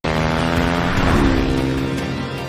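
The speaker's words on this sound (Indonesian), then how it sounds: "Mereka berdua kabur menggunakan motor trail dengan Thief yang mengendarainya." A dirt bike engine roars loud and close as two people flee on it, a steady revving drone with a slight rise in pitch, no voices.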